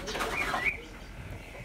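Birds on a workshop roof, soft pigeon-like cooing and calls coming in short phrases, fairly close but quiet over a faint outdoor background.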